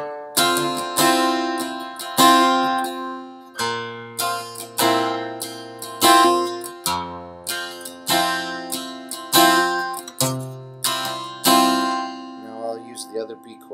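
Acoustic-style guitar strums a song's chord progression, with about a dozen sharp strummed chords ringing and decaying in a steady rhythm, played alone and up close.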